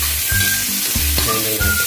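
Chicken browning in a pan for spicy adobo, a dense close sizzle broken by rhythmic stirring scrapes and clatters of a utensil against the pan.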